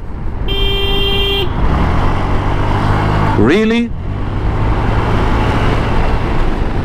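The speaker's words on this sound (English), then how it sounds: "traffic here is kind of idiotic" Loud road traffic with a steady car horn held for about a second, then a shorter rising honk, over continuous engine and road rumble; a voice briefly speaks.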